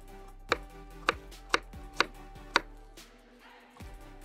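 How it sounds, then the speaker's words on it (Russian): Five sharp knife chops through potatoes on a cutting board at a steady rhythm, then a pause and one more chop, close up with no talking. "для начала режем картошку"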